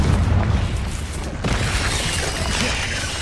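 Bombarda and Confringo spell explosions in the Hogwarts Legacy video game: a dense, loud roar of booming blasts, with a sharp new burst partway through and rumbling noise sustained to the end.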